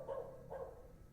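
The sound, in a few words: dog barking in video game The Excavation of Hob's Barrow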